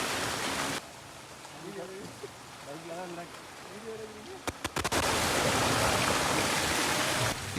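Floodwater rushes through flooded streets in Jaffna near the Nallur Sivan temple shops, a loud steady wash of flowing water that drops back briefly while someone talks, then surges again.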